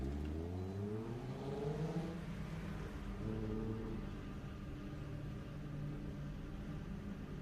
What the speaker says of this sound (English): Howard Duncan now out there in the number 65 Miata.